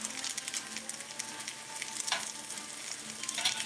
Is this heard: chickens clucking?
no